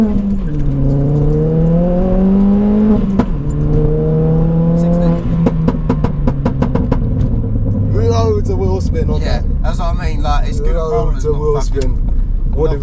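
A 320bhp Ford Fiesta ST, front-wheel drive, launches hard with wheelspin, its engine climbing steeply through the revs, dropping at a gear change and pulling again, with a burst of rapid clicks and flutter near the end. A person talks over it.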